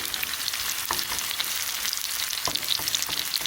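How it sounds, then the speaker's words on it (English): Onions drop into hot oil for Jamaican salt mackerel and frying, giving a steady close sizzle with a few scrape and stir taps from a utensil in the pan. "the oil is hot and I'm going in first and foremost with onions"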